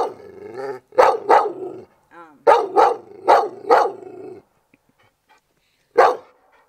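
Aggressive dog barking loudly up close in sharp bursts of two or three barks, with pauses between volleys and a low growl in places.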